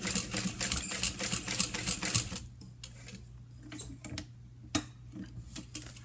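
A sewing machine topstitches across fabric in a fast, steady mechanical patter for a couple of seconds, close by, then falls quiet apart from a low hum and a few handling clicks.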